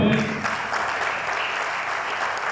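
A church congregation applauds during a sermon, a loud, dense wash of clapping that begins with a brief voice and then holds steady to the end.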